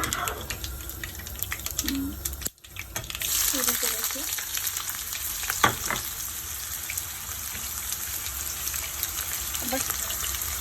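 Chili, mustard seeds, garlic and onion frying in hot oil for mango dal give a steady, close hiss with a brief dropout early on, then a few soft stirring scrapes running throughout.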